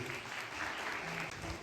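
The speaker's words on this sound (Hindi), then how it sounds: "तालियां बजाते चलिए।" An audience claps steadily and densely at a youth voting awareness event in Kathua, a continuous close applause with no pauses across the short stretch.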